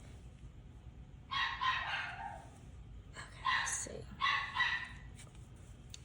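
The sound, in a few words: dogs barking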